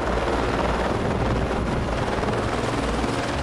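A helicopter used for logistics in the French southern and Antarctic lands gives off a loud, steady rotor and engine roar that holds without a break throughout, with no voices.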